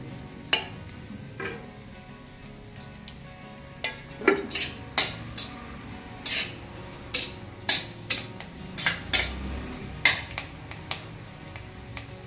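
Curry leaves stirred in hot oil in a pan while making crispy roasted poha chivda: a series of sharp metallic scrapes and clinks of a spoon against the pan, spaced irregularly over a faint steady sizzle, no voices.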